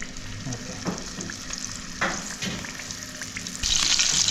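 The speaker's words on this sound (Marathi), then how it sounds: "प्रॉपर एकदम डीप फ्रायच होत आहे." Fish deep frying in hot oil in a beachside resort kitchen, a steady bubbling sizzle punctuated by a few scraping clacks of a utensil, growing louder and hissier at the end, with no talking.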